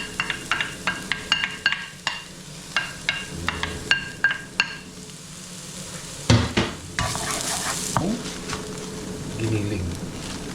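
Chopped onions browning in a pan before ground pork goes in, a rhythmic series of spatula scrapes and taps over a soft sizzle, then louder stirring and frying bursts toward the end.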